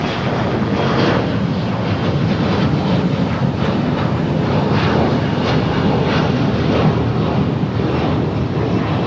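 An American Airlines jet on approach to runway 25 left at LAX roars steadily and loudly, a broad continuous engine rumble with no break across the whole stretch.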